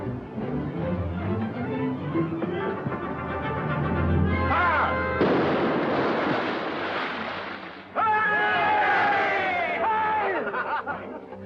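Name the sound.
ship's cannon firing a broadside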